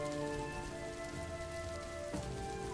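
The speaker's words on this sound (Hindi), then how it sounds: "तभी बहुत जोर से बारिश होने लगती है।" Heavy rain pours steadily on a village farm field, a dense, constant hiss with tonal hum lines running through it and no voices.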